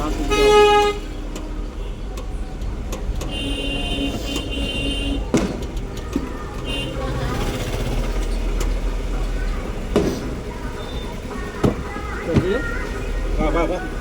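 Road traffic on a rural road near Chirala, Andhra Pradesh, with repeated car horn toots over a steady engine rumble and passing vehicles, someone talking intermittently near the microphone.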